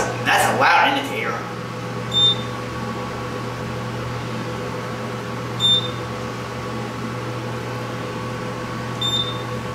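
An elevator's loud indicator chime in a parking deck elevator rings three times at roughly three-second intervals over a steady machinery hum, after a brief clatter at the start.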